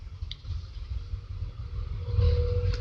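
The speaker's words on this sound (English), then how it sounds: "I'm just gonna wait for that garbage truck to go by" A garbage truck rolls past outside, its low engine rumble steady and building louder toward the end, muffled as if heard from indoors, with no speech over it.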